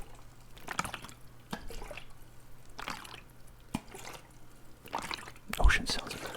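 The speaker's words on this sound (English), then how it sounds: "sometimes water bottle sounds remind me of ocean sounds" Water sloshing and dripping inside a bottle, soft close-up liquid movements in scattered bursts with quiet whispering between them.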